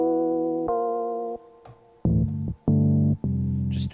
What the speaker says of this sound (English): And then down here we have this guy, dark chords,